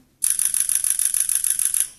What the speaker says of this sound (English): if you hold the shutter down, I'll be quiet so you can hear it going.